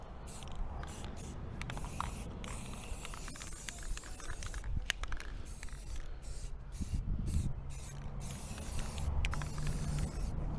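Rust-Oleum spray paint hissing in repeated short bursts and longer sprays as a sand-colored base coat goes onto a desert area of an indoor model course, fairly quiet and close.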